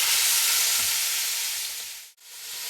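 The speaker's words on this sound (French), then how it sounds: "vous remettez votre viande pour la saisir pendant 2-3 minutes" Veal pieces searing in a hot pan for blanquette de veau, a loud, steady hiss of frying that briefly cuts out near the end.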